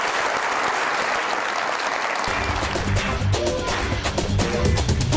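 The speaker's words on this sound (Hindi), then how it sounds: "बहुत सारी तालियां दोनों मेहमानों के लिए" A studio audience at the Mazaaq Raat comedy talk show claps loudly and steadily for the two guests, with low, rhythmic tones joining beneath the clapping partway through.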